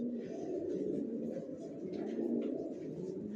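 Racer pigeons coo softly in a steady, low murmur, faint and continuous.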